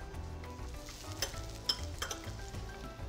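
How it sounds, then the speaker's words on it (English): Sea bass cooking skin side down in a pan over low to medium heat, giving a soft, quiet sizzle with a few light clinks and stirring taps, close by and without speech. "Now we're just gonna cook that on a low to medium heat for about 4 to 5 minutes on its skin side only."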